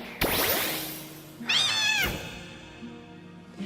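A pet cat meows close up, one long rising call and then softer cries, with no talk.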